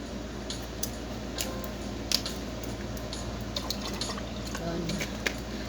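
Water poured into cold milk for a bedtime drink, heard as a steady, close liquid trickle with small drips and splashes, while someone talks over it.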